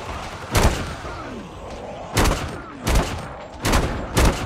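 Gunfire in Call of Duty Mobile Zombies, five loud sharp shots spaced irregularly over a steady game background, weapons including a sniper rifle.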